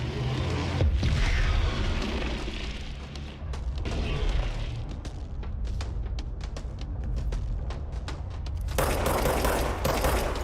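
Rapid bursts of gunfire and booming impacts from the video game Control, dense and continuous with a louder surge of blasts near the end, no talking heard.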